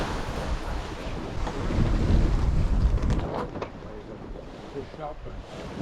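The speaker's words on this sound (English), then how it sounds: "We've got light wind and we're slowly sailing downwind." A sailboat running slowly downwind in light wind on an ocean passage toward Fiji gives a steady rush of wind and water wash, rising briefly in the middle.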